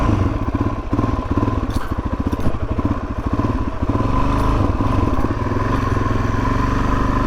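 A 2019 Suzuki DRZ 400S dual-sport motorcycle rides an old dirt track, its single-cylinder engine thumping steadily and close, with brief rattles and clatter as it rolls along and no speech.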